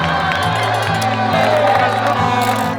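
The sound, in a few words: crowd of spectators cheering at Zegama-Aizkorri trail race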